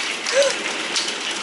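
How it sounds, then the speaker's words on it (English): Hail strikes a window under an overhang during a storm in Guadalajara, Mexico, a dense rattling patter of small impacts, fairly close, with a brief voice heard over it. "Oh, more hail."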